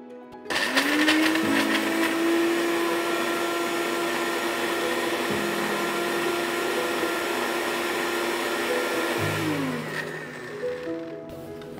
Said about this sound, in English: I am going to blend these cute babies into this blender with just a little bit of water.